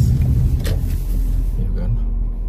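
A car reverses during a Canadian winter, its engine a low steady rumble nearby under occasional talk.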